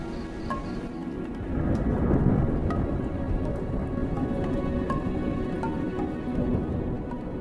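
Deep thunder rolls continuously across the African savanna, a broad low rumble with steady rain patter over it, moderately loud and unbroken, with no voices.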